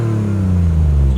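A 2012 Toyota Sienna with a muffler delete, its engine giving a loud, deep, rumbling drone close by, the pitch sinking slightly as the rev eases.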